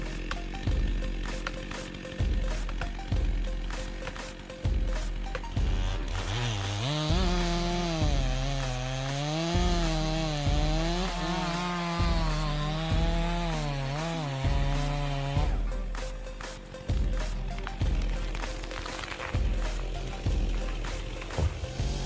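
A long-bar chainsaw cuts through a large palm tree log in snowy conditions: rattling idle, then a loud, sustained whining rev through the wood for several seconds before dropping back to a choppy idle.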